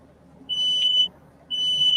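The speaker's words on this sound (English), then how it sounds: "Your smoke detector's going off." A shrill electronic alarm beeps in two long, piercing bursts about a second apart over a quiet room hum, loud and close.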